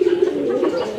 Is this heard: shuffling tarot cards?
no